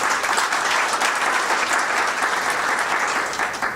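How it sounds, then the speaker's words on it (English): Sustained applause from a company town hall audience celebrating a sales win, dense even clapping holding fairly loud for several seconds and easing slightly at the end, with no talk. "So a round of applause for that."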